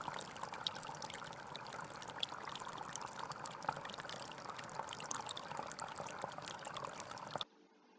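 Water flowing and trickling steadily at close range, a soft continuous pouring wash that runs unbroken for about seven seconds and then cuts off abruptly.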